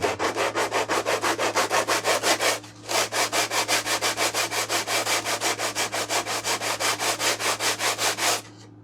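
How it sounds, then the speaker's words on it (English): Rapid rhythmic rasping of sandpaper on a wooden model airplane fuselage, steady back-and-forth strokes close up, with one short pause partway through and a low hum underneath. "we'll come back and give this a little sanding"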